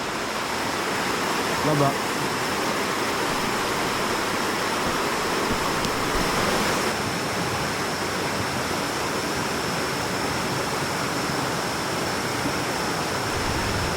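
A large waterfall on Maui, Hawaii roars as a steady, dense wash of falling water throughout, loud and unbroken, with a brief spoken word near the start.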